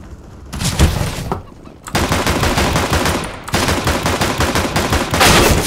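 Automatic rifle fire in a CS:GO free-for-all deathmatch on Dust 2, loud rapid bursts of gunshots with a brief gap, then sustained rattling fire carrying on to the end.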